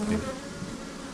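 Honeybees buzzing around their hives in a continuous, steady drone, loud and close, with no voices over them.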